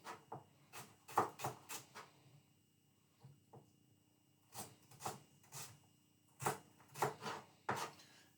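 Kitchen knife dicing root vegetables into a fine brunoise on a board, quick clusters of crisp chops in bursts separated by short pauses, close and fairly faint.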